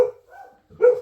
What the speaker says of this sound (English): my mailman's here, so unfortunately you're going to hear the dogs bark for a little bit